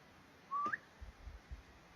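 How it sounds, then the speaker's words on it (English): A single short whistle from a person outdoors on a hillside rises quickly and stops, faint and alone, followed by a few soft low thumps. "I'm gonna do a whistle and see if we hear anything."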